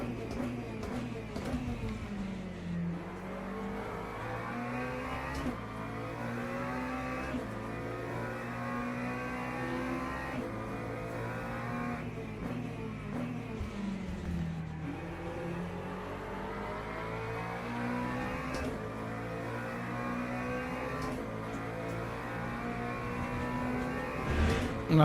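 A McLaren race car engine in the racing game Le Mans Ultimate revs up and drops repeatedly, rising whine through the gears with periodic downshifts, loud and close, sustained throughout.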